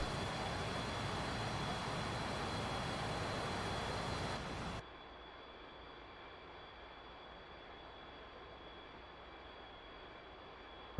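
An F-4B Phantom jet in the flight simulator DCS World runs with a steady, broadband engine roar that cuts sharply to a quieter, muffled whine partway through, without talk.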